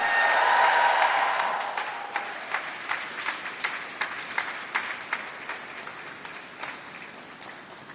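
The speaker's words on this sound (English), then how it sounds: "A huge cheer and a round of applause." At a university graduation ceremony, the audience breaks into a loud burst of cheering. The cheers fade into steady, sustained applause that continues to the end.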